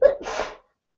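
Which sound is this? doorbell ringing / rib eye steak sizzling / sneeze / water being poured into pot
sneeze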